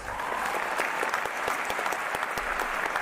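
Steady applause from a crowd watching a live 2v2 esports showmatch, dense overlapping clapping with a few sharper individual claps, continuous and fairly loud for the whole stretch with no talk over it.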